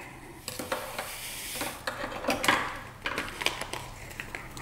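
A spoon stirs green jelly mix in hot water, giving soft irregular scrapes and light clinks against the container over a faint background hiss.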